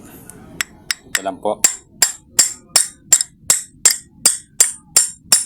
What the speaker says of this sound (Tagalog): kaya ang gagawin ko po dito, pupukpukin ko po ito ng martilyo